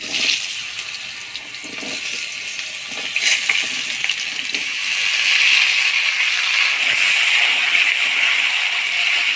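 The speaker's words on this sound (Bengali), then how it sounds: "সবজিগুলো ফোড়নের তেলে নাড়াচাড়া করে নিলাম।" Mixed vegetables fry in hot oil tempered with dried red chillies, bay leaves and five-spice seeds, giving a loud, steady hissing sizzle with faint stirring, close up and without talk.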